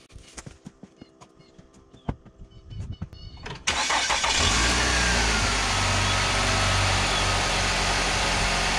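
Nissan Altima engine, after an A/C compressor and condenser replacement, with a few clicks and clunks before it cranks and catches, then settling into a loud, steady idle close by.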